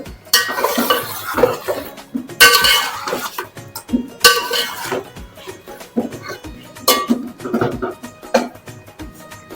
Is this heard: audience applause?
no